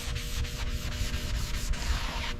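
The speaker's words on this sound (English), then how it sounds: "Hours of sanding." Hand sanding of body filler on a Porsche 911 GT3 during restoration, a continuous rough rubbing with regular back-and-forth strokes, close and steady with no talk.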